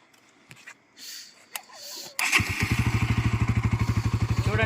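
A motorcycle on a night road trip from Hyderabad to Srisailam starts with a couple of thumps, then its engine settles into a loud, steady pulsing idle close by.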